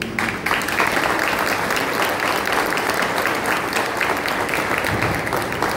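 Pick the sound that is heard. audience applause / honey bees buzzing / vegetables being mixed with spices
audience applause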